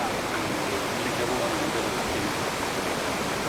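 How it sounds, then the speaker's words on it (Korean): Waterfall of the Yellowstone River plunging into the Grand Canyon of the Yellowstone, a steady, dense roar of falling water heard without a break. "가끔은 웅대한 폭포로 쏟아져 내리며 옐로우스톤의 그랜드 캐년을 이룹니다"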